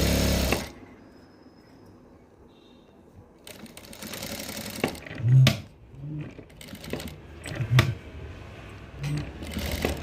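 A home sewing machine stitches a folded fabric hem, its whirring motor running in uneven bursts with sharp clicks and thumps, growing louder in the second half of the clip.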